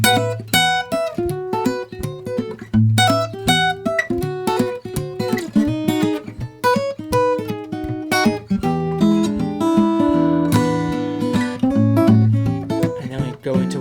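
Plucked fingerstyle guitar works through a section of a song, a close, clear run of picked melody notes over bass strings, played alone at a steady tempo.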